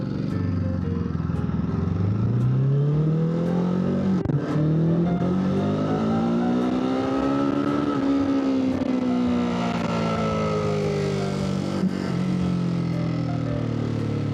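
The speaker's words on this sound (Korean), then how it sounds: "엔진 소리 좋죠" A Ducati motorcycle on a test ride revs hard and continuously, its engine note rising and falling in pitch as it pulls away and accelerates, loud and close with no talking.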